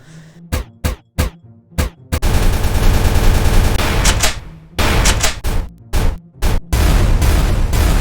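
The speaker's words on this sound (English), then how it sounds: "So I made some sound effects for guns" Gun sound effects made for a video game at a game jam: loud single shots in quick succession, then sustained rapid automatic fire, more sharp shots and another burst, all close and punchy.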